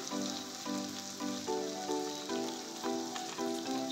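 Garlic paste with turmeric fries in hot oil with a soft, steady sizzle, like light rain. A repeating tonal melody plays over it, and nobody speaks.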